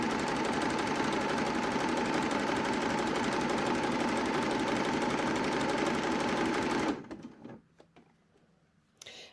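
Sewing machine stitching jersey fabric for a raglan top, running loud and steady with a fast continuous whirr for about seven seconds, then stopping abruptly, leaving faint quiet handling noises.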